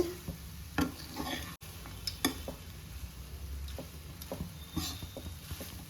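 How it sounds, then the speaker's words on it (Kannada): Cooked rice is stirred into a tempering in a pan for raw mango rice, with soft scraping and light clinks of the spoon against the pan over a faint background sizzle. "ಆಮೇಲೆ ಒಗ್ಗರಣೆಗೆ ಹಾಕ್ಕೋಬೇಕು. ಕೈ ಆಡಿಸ್ತಾ ಇದ್ದೀನಿ. ಒಗ್ಗರಣೆ ಎಲ್ಲ ಕಡೆಗೂ ಸರಿಯಾಗಿ ಮಿಕ್ಸ್ ಆಗ್ತಾ ಇದೆ."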